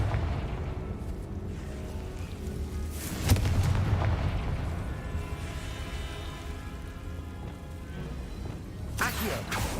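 Spell explosion from the Hogwarts Legacy video game: a sharp boom about a third of the way in rises over a dense, continuous layer of game music and ambience, with another burst near the end.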